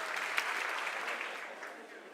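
An audience at a satsang at ISKCON Noida claps in a soft, continuous patter that slowly fades, heard somewhat distant and fairly quiet.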